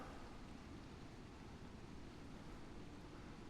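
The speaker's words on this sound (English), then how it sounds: "you can hear the closer we get to that waterfall, it gets a little bit louder here" A waterfall in the GS Pro golf simulator game rushes faintly and steadily, a constant broadband roar with no other sounds.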